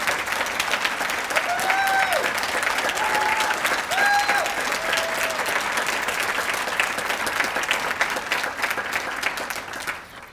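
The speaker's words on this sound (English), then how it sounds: "Let's give them a big hand of applause." Sustained audience applause at a child care awards ceremony honoring early childhood educators, steady dense clapping for about ten seconds with a few faint voices, fading out at the end.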